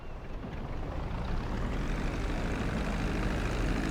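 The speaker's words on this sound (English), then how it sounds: "Start reducing the plane's altitude gradually so you're just above the runway as you approach." A steady airplane engine drone in GTA V during a landing approach, a broad, continuous roar that holds constant and close with no talking.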